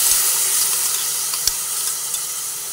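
Rinse water from a mixer bowl poured into a hot cooking pan, giving a steady loud hiss and sizzle of steam with a few small pops.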